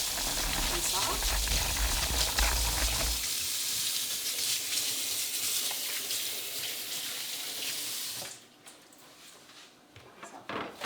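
Tap water running over hands being rinsed at a kitchen sink, a steady splashing stream that stops abruptly after about eight seconds, followed by faint handling noises.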